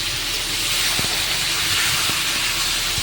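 Pointed gourd (potol) pieces frying in hot oil in a wok with crab for a curry, giving a steady loud broadband hiss and sizzle throughout with a few faint clicks of stirring and no talk.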